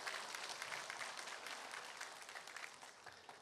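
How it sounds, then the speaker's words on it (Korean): A church congregation at a Sunday service applauds the children's choirs, with dense, sustained clapping filling the room evenly throughout. "우리 성가대, 우리 엘로이와 우리 예루살렘 성가대를 하나님께 영광의 박수 올려드립니다."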